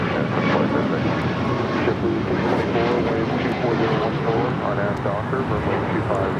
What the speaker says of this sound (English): This is United Airlines 2040 taking off to Houston, Intercontinental on a MAX 9.